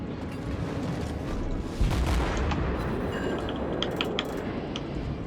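Heavy naval guns fire from warships in World of Warships during a ranked battle, a dense rumbling barrage of booms and blasts rolling continuously, with small metallic clinks and mechanical clatter on top.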